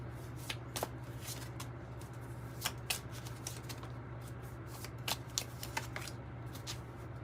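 Tarot cards are shuffled steadily by hand, a soft continuous riffling with occasional sharper card snaps, close and fairly quiet over a low steady hum, with no talking.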